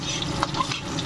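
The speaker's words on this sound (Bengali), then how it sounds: "ফোড়নটাকে একটু ভাজা ভাজা করে নেবো।" Black cumin seeds and green chili sizzle in hot oil as a tempering, with a steady close frying hiss and a few light stirring clicks.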